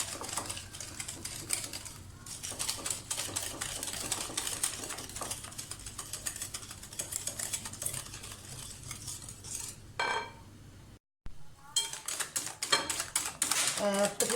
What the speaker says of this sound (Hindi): 5-6 मिनट हो गए हैं मुझे शुगर को और अंडों को और मेल्टेड बटर को मिक्स करते हुए